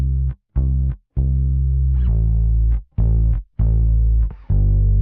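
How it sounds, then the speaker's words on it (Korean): Heavily overdriven retro tube-style distortion on a synth or instrument track in Logic Pro for iPad, a series of loud, buzzy sustained notes with short gaps between them, gritty and fizzy throughout, no talking. "좀 지글지글한 소리가 껴 들어가는 게 들리시죠?"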